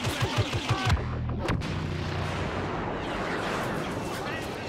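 Blaster gunfire in the video game Star Wars Battlefront on PS4 in a desert setting, a quick string of rhythmic shots followed by a heavy blast and a sustained rumbling roar, with a voice talking at times.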